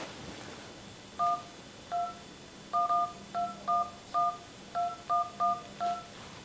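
Telephone keypad dialing: about a dozen short, clear two-tone beeps pressed in an irregular rhythm, close and alone over a faint background hiss.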